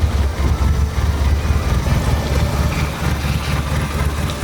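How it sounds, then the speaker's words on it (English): A Toyota RunX engine idles too low, giving a steady, close, low rumbling throb with a slightly uneven pulse that continues without a break and without voices. "Your idle is too low."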